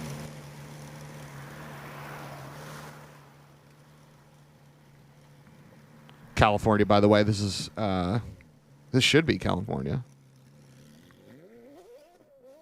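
A recording of a Porsche mid-engine V10 plays through speakers: two loud revving bursts with rising and falling engine pitch, separated by a short gap. Someone talks quietly before them, and a faint voice follows.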